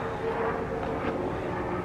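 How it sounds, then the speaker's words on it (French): A helicopter passes overhead near Fontainebleau in the evening, giving a steady, fairly loud rotor and engine drone that stays constant throughout, with no speech. "Alors il y a un hélico"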